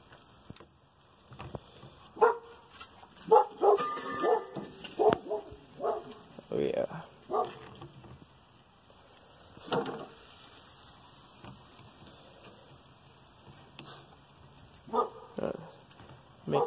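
A dog waits beneath a hot backyard grill where marinated squirrel is cooking, giving short whimpers and a few barks in bursts, close by, mixed with someone talking and the clatter of tongs.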